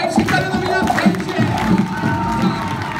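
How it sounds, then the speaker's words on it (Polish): An audience cheers and whoops for Damian's beatbox entrance, a loud, continuous wave of shouting and excited voices close by. "jeszcze większe brawa dajcie Damianowi na wejście"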